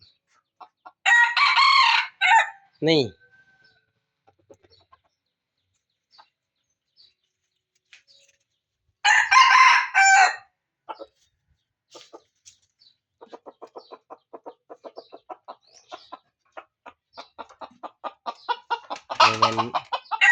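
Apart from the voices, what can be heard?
rooster crowing and clucking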